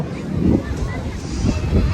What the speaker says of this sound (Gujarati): મોજા એવો આવે ને ભાઈ, આમ અવાજ કરતો કરતો ફીલ થાય ભાઈ